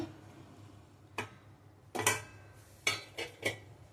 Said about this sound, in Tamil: இப்போ வதக்கி வச்ச வெங்காயத்தை இந்த பச்சை சிக்கனில் நான் சேர்க்குறேன்